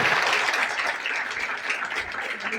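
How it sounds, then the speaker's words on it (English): An audience gives a steady round of applause for three speakers, dense even clapping with no voices over it. "Please give them a big round of applause."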